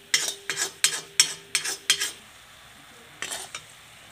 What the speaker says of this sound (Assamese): এইফালে লাগি যাব, গতিকে লৰাই থাকিব লাগিব